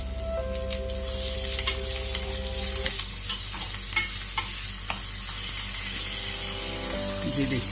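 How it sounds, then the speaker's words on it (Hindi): Dhokla tempering of curry leaves and green chilli frying in oil, a steady close sizzle with stirring scrapes throughout, alone without talk. "इसे करीब 10 सेकंड के लिए और भून के, ताकि हरी मिर्च और कड़ी पत्ते का फ्लेवर एक सार हो जाए"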